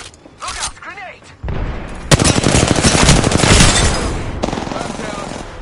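Rapid automatic gunfire in Apex Legends breaks out loud and close, a dense stuttering burst of shots after a brief voice line, continuing for several seconds before tapering.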